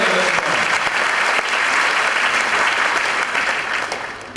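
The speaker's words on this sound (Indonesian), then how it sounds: "Sekali lagi boleh kasih tepuk tangan yang paling meriah untuk Anda semua." A crowd at a corporate year-end gathering in Indonesia bursts into loud, dense clapping that stays full and steady before tapering slightly at the close, with no voices over it.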